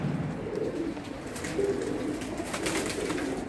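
Female pigeon cooing in a repeated low, soft rhythm, close by, with steady background noise and no talk.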